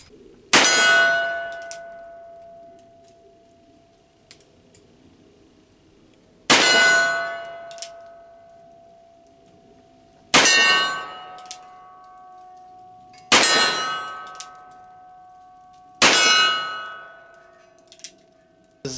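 Uberti 1873 Cattleman single-action revolver fired at a range, five loud, evenly spaced shots each followed by a bright ringing clang of struck steel targets that decays over a couple of seconds.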